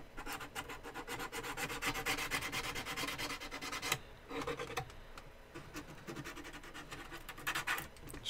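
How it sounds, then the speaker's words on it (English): Sandpaper wrapped around a file rubs steadily back and forth inside the teeth of a workpiece, a close, dry rasping stroke repeated in a fast even rhythm. "Just using the sandpaper wrapped around the file as kind of stabilizer and getting the inside of the teeth here"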